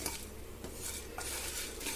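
Chilli and lentils being dry-roasted and stirred in a pan, with a steady close scrape of a utensil against the metal and a faint sizzle running throughout.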